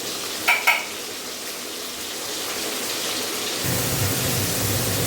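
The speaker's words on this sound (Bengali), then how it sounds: "এখানে মাছগুলো ভেজে নিচ্ছি" Fish fry in hot oil in a pan with a steady, close hiss and sizzle. Two utensil clinks come near the start, and the frying grows louder after the midpoint. No one speaks.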